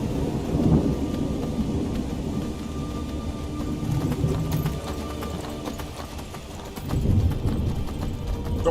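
Hooves of a horse in Skyrim clop at a steady gait beneath heavy rain and rolling thunder, a dense, continuous stormy backdrop with no voices.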